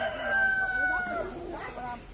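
A rooster crows loudly and close at a village chicken coop in Ha Nam, Vietnam, with other chickens clucking around it, heard briefly on its own.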